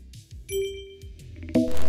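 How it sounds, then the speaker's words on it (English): Short macOS default system interface sounds: a few soft clinks and pings, then a bright chime that rings out over about two seconds, clean and close with no talk. "the latter will only output macOS default system sounds like this"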